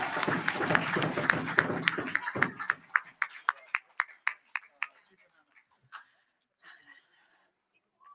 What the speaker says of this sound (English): I just want to ask for one more round of applause for everyone here from QBOW Child and Family